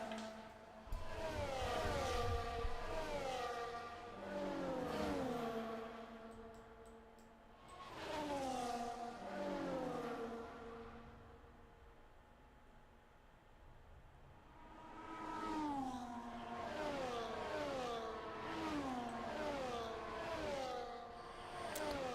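F1 racing video game cars at Spa: repeated waves of high-revving engine notes climbing and falling through gear shifts, rising and fading in three bursts with a quieter gap between, moderately faint.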